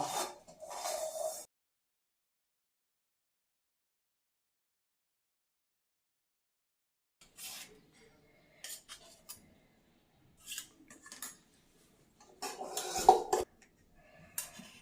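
Hot halwa mixture for farali gundar pak is spread in a greased steel plate with a metal spoon, making sporadic scraping and clinking against the plate between quiet pauses.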